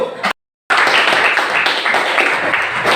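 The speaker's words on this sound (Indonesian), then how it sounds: "Kita beri aplaus dulu" A classroom group gives a burst of applause, dense overlapping claps filling the room steadily after a brief silent gap near the start.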